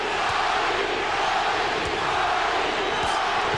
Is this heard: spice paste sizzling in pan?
no